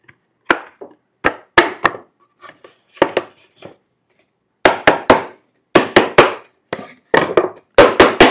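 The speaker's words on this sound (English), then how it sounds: "And tap these together." Sharp wooden knocks in quick clusters, the pieces of a till for a replica 18th-century box tapped together several times with brief pauses between bursts, close and crisp.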